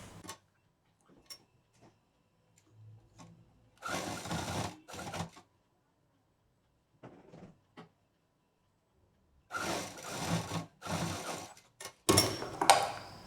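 A sewing machine stitches fabric for a sling bag in short separate bursts between quiet gaps, close and moderately loud, with no talking.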